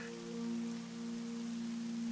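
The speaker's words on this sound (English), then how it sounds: "Rain never killed anybody now, did it?" Steady rain patters in the video game DayZ, a soft, even wash of falling drops with a faint constant hum beneath and no voices.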